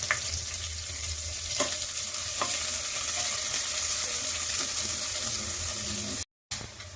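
Chopped large onion frying with cashews in a pan for coconut milk kushka: a soft, steady sizzle with a few stirring clicks, cut off by a brief silence near the end.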